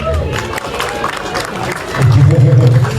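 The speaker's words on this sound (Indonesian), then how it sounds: "kita berikan tepuk tangan dong" Audience at a film press conference breaking into applause, a crowd clapping and cheering that swells louder toward the end, with a voice speaking over the start.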